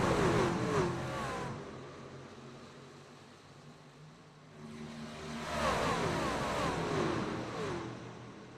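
NASCAR trucks race at Charlotte in the game iRacing, with a bunched pack of simulated engines screaming past, fading into a lower drone, then a second loud wave of rising, revving engines sweeping by.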